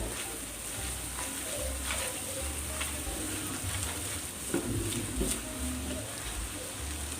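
Khoa and cashew-coconut paste being mixed and fried in oil for a fasting-day vegetable dish: a constant close sizzle with a few louder stirring scrapes partway through, no one speaking.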